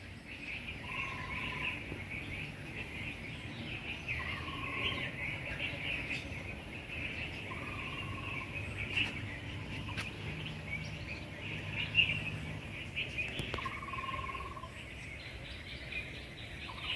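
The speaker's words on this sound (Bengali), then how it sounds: "পাখির শব্দ শুনতে পাচ্ছ?" Birds call from the trees in Sylhet, short faint chirps repeating every few seconds over a steady insect-like drone in a quiet outdoor setting.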